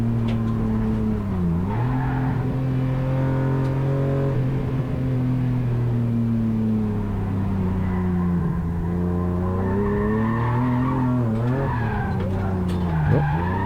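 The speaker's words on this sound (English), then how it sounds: "See what happens if you slide too much." A BMW E36 rallycross car slides across the track, its engine holding a steady droning note that dips and swells as the tyres skid, loud and continuous with no talk.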